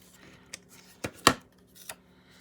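A few sharp scissor snips trim the edge of a paper craft, four quick faint cuts spaced irregularly in a quiet room.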